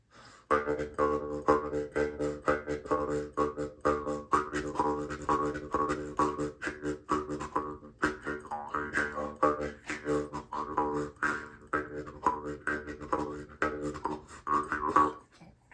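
A twangy, buzzing Mongolian Jew's harp plays continuously with a steady low drone and a shifting, wah-like tone, fairly close and clear, with brief pauses between phrases.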